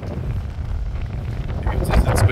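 Wind gusts across the microphone on the wild Norwegian coast near Viking burial mounds, a rough, blustery roar that swells louder toward the end.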